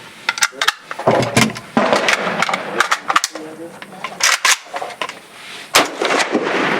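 Rifle gunfire from an AR-15 and an AK-47 during a timed shooting drill, a fast string of sharp, loud cracks in irregular bursts with short gaps, close to the microphone, and voices talking between the shots.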